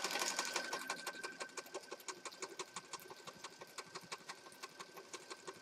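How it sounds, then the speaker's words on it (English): A sewing machine stitches a junk journal page in a steady, rapid mechanical chatter of evenly spaced needle strokes, fairly faint and close, running continuously with no voices. "So I'm just going to stitch it real fast."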